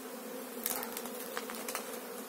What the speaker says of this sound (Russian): Ну вот здесь пчелы побольше.